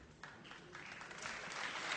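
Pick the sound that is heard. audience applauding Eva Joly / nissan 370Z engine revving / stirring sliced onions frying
audience applauding Eva Joly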